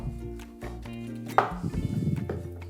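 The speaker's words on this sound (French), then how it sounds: "On coupe des petits bouts de mozza." A knife chops mozzarella into small pieces on a board, a few soft thuds followed by a quick run of close, rapid cuts, with no talking.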